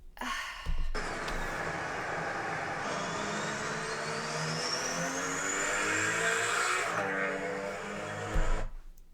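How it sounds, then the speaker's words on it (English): A car engine revs hard and climbs through several gears, pitch rising and dropping with each shift, loud and close with no talking. "Just listen to this car. The raw sound of going through gears"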